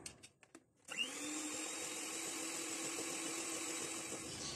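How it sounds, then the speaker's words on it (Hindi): Electric beater mixing butter, sugar and egg for muffin batter, a few short bumps before the motor starts with a rising whine and then runs as a steady, close, humming buzz. "अब ये मैं इसमें एक एक अंडा डालूंगी और इसको हम बीट कर लेंगे"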